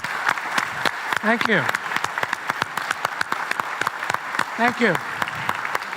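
A conference hall crowd claps for the speakers with sustained, fairly dense applause while a voice speaks briefly twice over the clapping.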